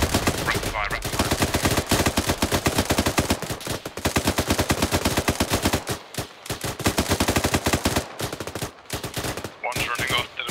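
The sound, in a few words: rapid gunfire in the video game ArmA 3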